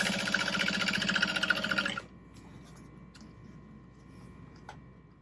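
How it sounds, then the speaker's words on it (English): A sewing machine back stitches over the butterflied seams of a tote bag, whirring briskly for two seconds, then cutting off abruptly into a quiet room with a few faint clicks. "I'm going to be back stitching over our butterflied seams just to reinforce."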